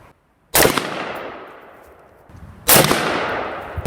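A rifle fitted with a Bear Creek Arsenal 18-inch fluted stainless barrel fires two loud, sharp shots about two seconds apart while being zeroed at 10 yards, each blast trailing off in a long, fading echo.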